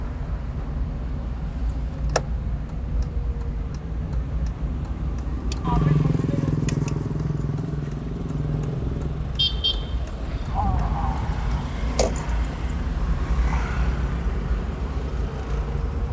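A 2007 car driving along a road, with a steady engine and tyre rumble under the whole stretch, a couple of brief horn toots and passing traffic sounds, and someone talking over it.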